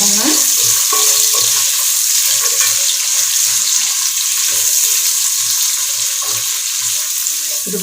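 Onions frying in hot oil in a pan while being stirred, a steady sizzle carrying repeated soft scrapes and knocks of the spoon throughout, with no talking.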